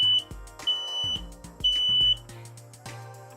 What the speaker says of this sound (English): fortunately there's a test button on each of these smoke alarms, and all you have to do is press the button for a few seconds